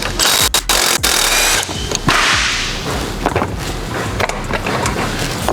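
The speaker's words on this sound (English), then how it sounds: "we're gonna take the bolts out of the upper shock mount, and we're gonna slip the wrench in from the back" A wrench works the upper shock mount bolts on a Can-Am X3, with loud, close metallic clanks, sharp snaps and ratcheting clicks that come in irregular bursts over a steady background hum. No one speaks.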